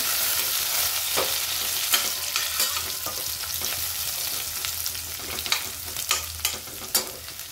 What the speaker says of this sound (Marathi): लसूण कुटलेला, थोडंसं लसण आपण परतून घेऊ।